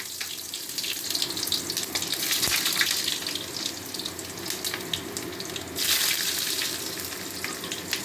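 Thinly sliced eggplant goes into hot oil tempered with fenugreek, radhuni and mustard seeds, giving a dense, hissing sizzle that swells louder at intervals, with a brief knock partway through and no talking.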